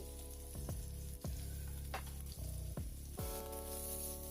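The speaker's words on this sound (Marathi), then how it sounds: "मी यामध्ये घालणार आहे चार ते पाच लसूण पाकळ्या चिरून घेतलेल्या चिरून घेतलेले कांदे" Cumin, chopped garlic and chopped onions fry in a pan for a dry potato and okra dish, giving a soft, quiet sizzle with a few brief stirring knocks against a steady low background hum.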